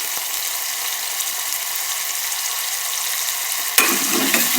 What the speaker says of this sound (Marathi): हा पण एकदम सॉफ्ट होईपर्यंत जरासा भाजून घेऊया